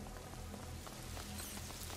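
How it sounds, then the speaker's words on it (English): Steady rain pours down in the dark medieval setting of the video game A Plague Tale: Innocence, a constant wash of patter with faint drips, heard on its own without voices. "Lucas, Hugo, stay out of the rain."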